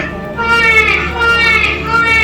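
Baby crying heard during an Indonesian children's storytelling contest, a loud, wavering wail that holds steady and rises in repeated bursts across the whole stretch.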